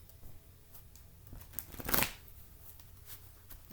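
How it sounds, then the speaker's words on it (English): Tarot cards shuffled by hand, a run of soft riffling flutters building to a louder burst near the middle before settling into lighter shuffling, close and alone with no talk. "these cards have been shuffled many times, but we'll keep shuffling one more time"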